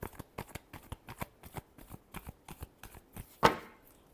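A deck of tarot cards being shuffled up close, a quick rhythmic series of soft riffling flicks ending in a sharper snap as the cards are squared, with no voices.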